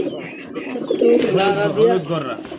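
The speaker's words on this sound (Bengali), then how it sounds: "এটা গররা কবুতরের মাদি" A yellow female Gorra pigeon at a bird market gives soft, rolling coos over a few seconds, mixed with nearby chatter and market bustle.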